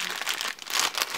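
Foil wrapper of a Mystery Mini Shonen Jump booster pack crinkling loudly up close as it is torn open by hand, a brief burst of rustling.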